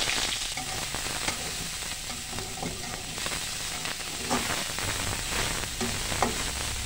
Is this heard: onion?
yes